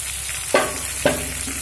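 Sliced radish and slit green chilies frying in a pan for a spinach dish, a steady sizzle with two sharp spatula clinks against the pan.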